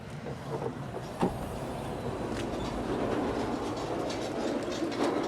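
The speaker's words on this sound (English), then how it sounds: "My neighbor going by with his trailer" A neighbor's vehicle rolls past towing a trailer, a steady broadband rumble with rattling and clanking that holds fairly loud across the whole stretch, a sharp knock near the start, no voices.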